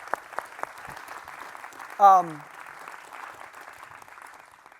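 A live audience at a political discussion event applauds in a steady wash of clapping that runs throughout, while a voice briefly speaks over it partway through.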